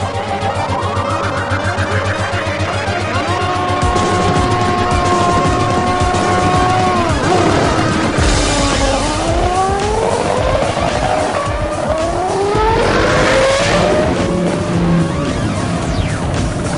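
A car accelerates hard in a quarter-mile drag race against a bike and a boat. The engine roars loudly and continuously, and its pitch climbs and drops with each gear change, over constant loud background noise.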